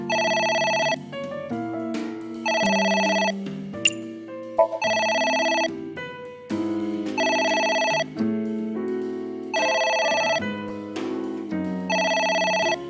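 A telephone keeps ringing in the video game AI: The Somnium Files, with repeated bursts of a bright electronic ring and short pauses between them over a soft musical backdrop, loud and persistent for the whole stretch.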